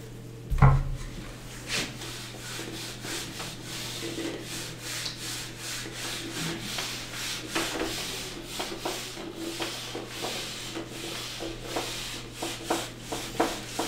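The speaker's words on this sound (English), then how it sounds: "Let me rub this now." Writing being rubbed off a board during a math lecture, with soft, repeated scrubbing strokes in an irregular rhythm, fairly quiet and close, following one sharp knock at the start.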